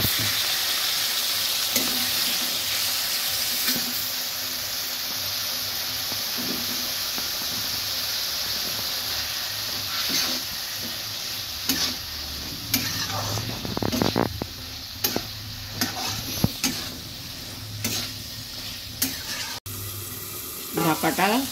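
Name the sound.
water added to fish curry in a hot pan, sizzling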